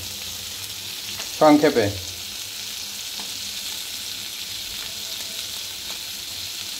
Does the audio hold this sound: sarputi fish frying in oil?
yes